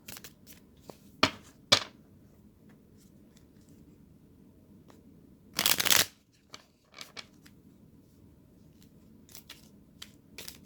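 Tarot cards being shuffled, a few short crisp riffles and one longer burst of card flutter midway, set against a quiet room with scattered small handling clicks.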